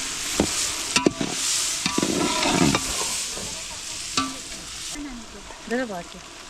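Jackfruit bhaji with mild chili masala sizzles as it is roasted, with a spatula scraping and clattering against the pan at irregular intervals. Brief chirpy tonal sounds rise near the end.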